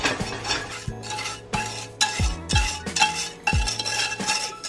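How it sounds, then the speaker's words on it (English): Brown sugar pie filling for a chocolate cashew maple pie being stirred in a pan, with several clinking strikes of a utensil against the dish and scraping between them, close and fairly loud. "Let me see if I can stir that up really quick."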